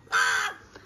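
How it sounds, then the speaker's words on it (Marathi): A single harsh crow caw rings out close by in a Konkan coastal village, loud and abrupt, followed by a faint trailing sound. "इथे ओरडतोय कावळ्या."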